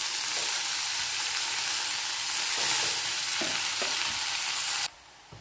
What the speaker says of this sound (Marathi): लसूण आणि मिरची व्यवस्थित परतली गेली की यामध्ये आपल्याला भाजी टाकून घ्यायची आहे